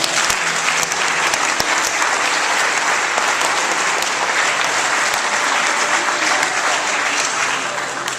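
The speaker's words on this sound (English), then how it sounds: "Please give them a round of applause." Meeting audience applauding in a dense, sustained burst of clapping, loud and continuous throughout, fading slightly at the very end.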